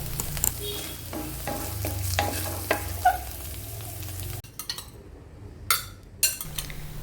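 Onion, ginger, garlic and pepper powder sizzle in a hot pan while a spoon stirs and taps, close and steady. The sizzle cuts out abruptly midway, then a few clinks follow.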